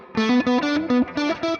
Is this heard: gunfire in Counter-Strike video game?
no